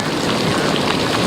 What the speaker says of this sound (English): And Angelina, we can just see that rain and those winds whipping you around down there.